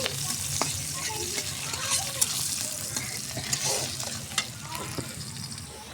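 Onion, garlic and green chillies frying in a pan, a continuous close sizzle with scattered light scrapes and taps as they are stirred.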